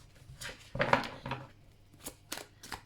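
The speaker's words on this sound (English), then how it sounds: "We're going to shuffle some cards." Tarot cards shuffled by hand for a pick-a-card reading, a few soft riffling bursts and crisp flicks, near and fairly quiet, with no talking.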